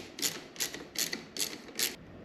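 A ratchet tightens the rear brake bolts on a Ninja 500 motorcycle in five short, evenly spaced bursts of close, crisp clicking with brief pauses between them.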